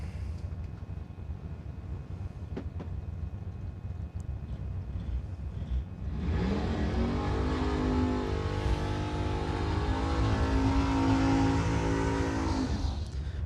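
A Camaro drag car at a New Year Nationals drag race roars in after six seconds of rumbling track ambience, its engine loud and rising in pitch as it accelerates hard down the strip, with no talk over it.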